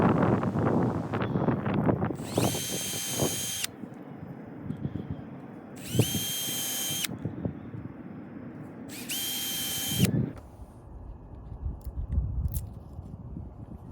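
A power drill pre-drills holes for mounting an aosu T2 Pro solar security camera, with three short, loud, high-pitched whirring bursts separated by pauses over a background of low rumble and handling noise.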